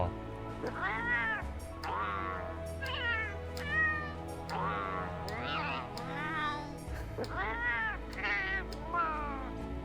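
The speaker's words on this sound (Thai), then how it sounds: "เสียงแมว" A Palico cat from Monster Hunter World meows repeatedly in a string of clear, close mewing calls, with steady game background sound underneath.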